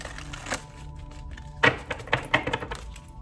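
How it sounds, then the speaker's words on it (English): Tarot cards being shuffled at close range, a quick burst of crisp card flicks and riffles followed by several sharp taps and slaps as the deck is squared, over faint room hum. "I'm gonna give it another shuffle"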